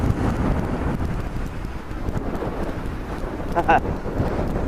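Strong high wind blowing across the microphone outdoors while a drone flies, a constant low rumbling buffet with gusty swells and no pause.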